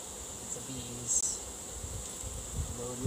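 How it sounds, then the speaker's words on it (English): Honey bees hum around an open hive during an autumn inspection, a steady faint drone with a brief louder pass near the middle and low handling bumps beneath. "The bees."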